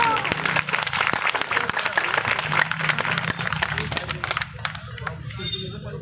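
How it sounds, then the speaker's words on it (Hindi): A crowd at a party political event in Delhi applauds to welcome the state party president, dense loud clapping that thins toward the end. Murmuring voices mix in with it. "वह जोरदार ताली बजाकर स्वागत करें"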